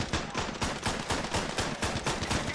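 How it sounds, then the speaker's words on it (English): An MG 08/15 machine gun in the Ravenfield video game fires a sustained rapid burst, loud and close, with steady evenly spaced rounds throughout. "Oh good, we have an MG0815."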